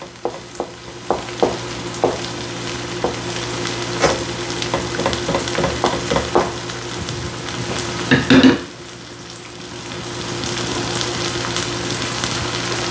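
Beef for a beef and broccoli stir-fry sears in a hot pan with a loud sizzle, tapped by repeated utensil clicks and stirs, then a burst of scraping before the hiss settles to a quieter steady fry.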